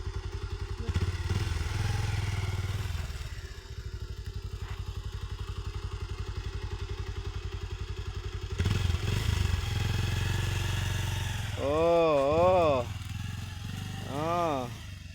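A motorcycle engine idles and revs while the bike is slowly turned around by hand, with clatter and scraping. People talk over it throughout.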